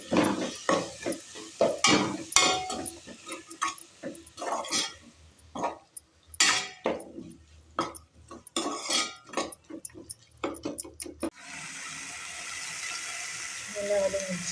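Metal utensil scraping and clattering in a pan of frying chopped tomatoes with repeated stirring strokes and a faint sizzle, fairly close, ending in a steadier hiss.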